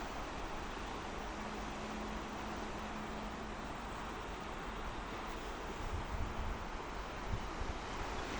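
Mediterranean sea surf on a cloudy, overcast morning, heard as a steady broadband wash of waves with wind noise on the microphone, continuous and fairly even with slight swells near the end, and no voices.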